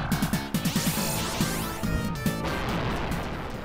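Rapid bursts of synthetic gunfire from the 1987 Konami arcade game Contra, a quick run of repeated shots followed by scattered blasts and electronic effects, no talking.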